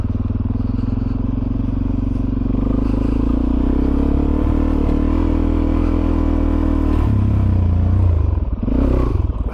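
Suzuki DRZ400SM supermoto motorcycle riding over sand on Rampart Range. A close, loud single-cylinder engine drones steadily, with a rising rev and some clattering toward the end.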